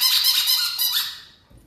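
A squeaky dog toy gives a bright, shrill squeak that runs for over a second with a couple of pitch shifts, then fades, loud and close with no talk.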